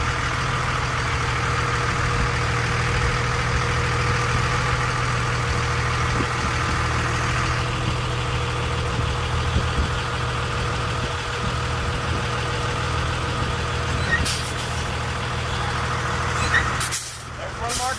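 A tractor-trailer truck idles steadily up close during backing and parallel-parking practice, its low diesel rumble unbroken throughout before a sharp burst of air-brake hiss near the end.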